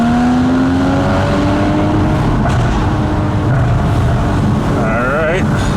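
A 2015 Porsche Boxster GTS with sport exhaust revs up under load in a continuous loud engine drone with a rising pitch, heard from the cabin over steady wind and road roar. A voice talks over part of it.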